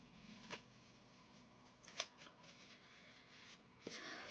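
Tarot cards are shuffled by hand, soft papery riffles and a few sharper snaps of the deck, faint and close, with no talking over them.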